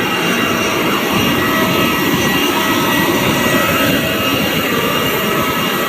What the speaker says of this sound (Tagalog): Si Boy Kulot saka si Buyunat sasakay na ng aeroplano.